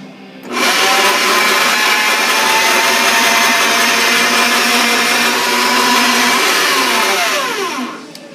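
A Harbor Freight variable-speed saw fitted with a metal blade runs steadily through a cut for about seven and a half seconds, a loud, sustained whine that starts abruptly and tapers off at the end, with no talking.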